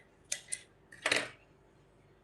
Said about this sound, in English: just cut your yarn